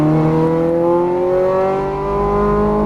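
A Ferrari F430 Scuderia engine pulls hard on a race track, a loud, close, steady roar with its pitch rising smoothly under throttle, no talk.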